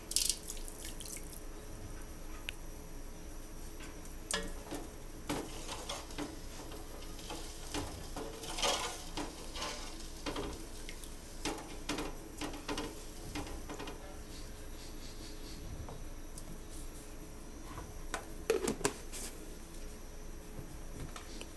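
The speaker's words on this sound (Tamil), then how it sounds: "ஒலை நல்லா கொதிக்க ஆரம்பிச்சிருச்சு." A pot of water for mutton kola biryani comes to a rolling boil, giving a steady close bubbling and hissing with scattered pops and drips, and no voices.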